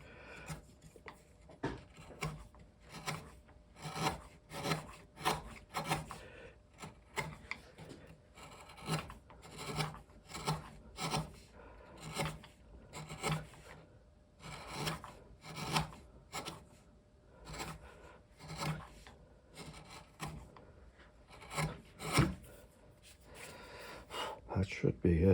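A carving gouge cuts into wood for a table base in a steady series of rasping, scraping strokes, close and rhythmic, repeated many times with short pauses, while someone occasionally talks between cuts.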